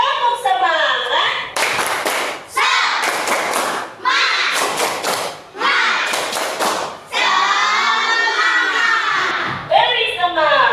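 Schoolchildren in a classroom perform the rhythmic 'tepuk semangat' spirit clap: loud, patterned bursts of group clapping separated by short pauses, mixed with the children's chanted voices and shouts.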